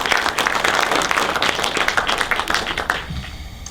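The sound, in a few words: workshop audience applause for crew member Jason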